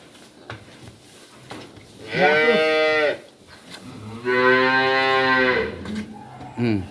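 Dairy cows at a farm give two long, loud, close moos a second apart, with a shorter call at the end, over quiet background shuffling and faint murmurs.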